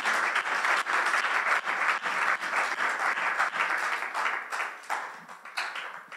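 Sustained audience applause fills a church gathering, dense and steady clapping from many hands for about six seconds, tapering slightly toward the end.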